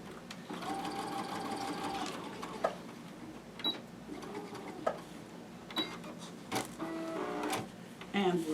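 A sewing machine runs in bursts stitching a quilt's three-way Y seam, its whirring motor broken by clicks and brief pauses, with a person talking faintly at times.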